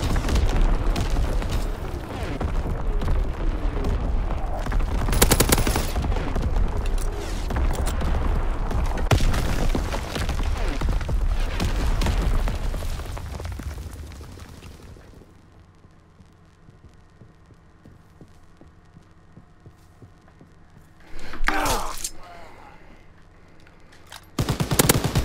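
An enemy artillery barrage rumbles through a Call of Duty WWII multiplayer match, heavy booming blasts and gunfire for about fifteen seconds, then a quiet low hum broken by one more sharp explosion and a final burst.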